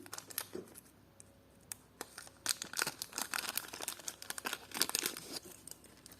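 Crinkling plastic of a small packet being opened during an unboxing of vintage clip-on earrings, close and quiet, with irregular bursts of rustling and sharp crackles that grow busier toward the end.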